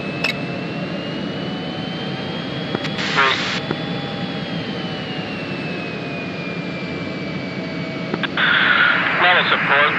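Steady roar of jet aircraft engines in a flight simulation game, a continuous whine with a slowly shifting tone, broken by short bursts of radio chatter.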